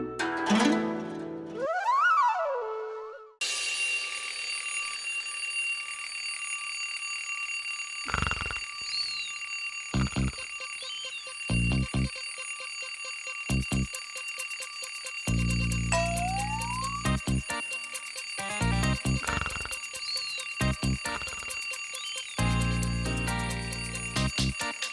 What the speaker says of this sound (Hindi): अलार्म कब से बज के बजे जा रहा है